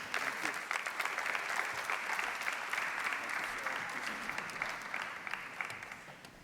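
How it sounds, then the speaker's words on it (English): Sustained audience applause at a university family event, steady dense clapping filling the room throughout without pause, a few voices faintly mixed into the crowd noise. "Can we give Andrew another round of applause?"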